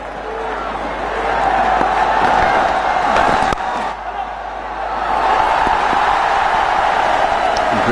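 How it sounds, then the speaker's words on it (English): A large cricket crowd at a 2011 World Cup match between Bangladesh and England keeps up a steady, loud roar of cheering from a distance, with a brief dip partway through. "Great reaction from the crowd."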